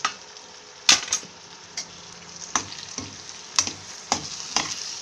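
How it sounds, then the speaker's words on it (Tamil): Tomatoes with ginger garlic paste sauté in a pan for a biryani, giving a steady soft sizzle broken by several sharp scraping stirs of a spoon against the pan, close and with no talking. "தக்காளி வந்து நல்லா மசியணும் அந்த அளவுக்கு நம்ம இதை வதக்கணும்"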